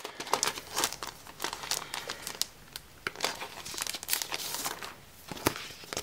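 Crinkly plastic wrapping around a pack of stickers rustles and crackles up close, with irregular sharp crumpling bursts as it is handled.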